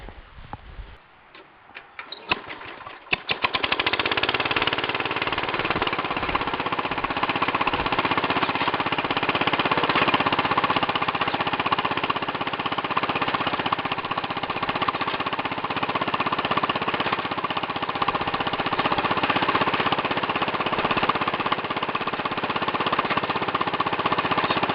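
An engine drives a belt with a clutch, giving a steady, loud mechanical drone with a fast ticking rhythm that runs on without stopping after a few quieter irregular clicks at the start.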